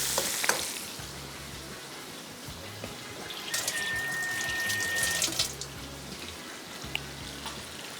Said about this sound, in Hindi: जैसे ही मक्खन मेल्ट हुआ, चॉप किया हुआ प्याज, लहसुन, इसको बिल्कुल हल्का सा फ्राई करेंगे